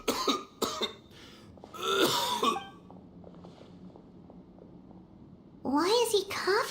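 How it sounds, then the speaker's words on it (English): A character in a Genshin Impact cutscene coughs and clears his throat in a run of rough, close-up coughs, with speaking voices before and after. "Why is he coughing so much?"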